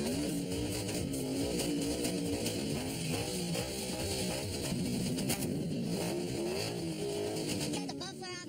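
A car engine with its muffler cut off roars and revs loudly and continuously, a harsh throaty drone running throughout, with voices talking over it.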